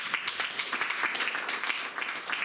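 A church congregation applauds for the Lord, a steady wash of many hands clapping at moderate loudness with no voices over it.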